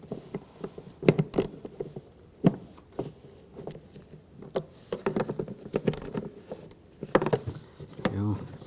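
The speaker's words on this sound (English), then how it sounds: "use a 13mm socket," A 13mm socket wrench ratchets and clicks loosening wing nuts on the starter cover underneath a 2007-2013 BMW X5 3.0L, with intermittent metallic clinks and tool handling while someone talks throughout.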